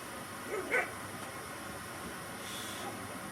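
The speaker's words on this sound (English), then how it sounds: "don't know if y'all can hear my beagles in the background" A faint beagle barks once or twice in the distance, brief yelps over a steady background hum.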